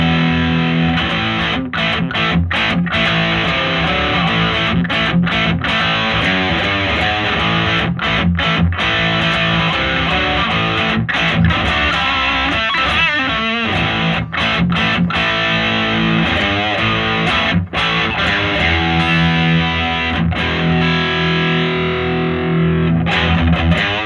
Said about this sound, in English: it's the HT Dist Pure Valve Distortion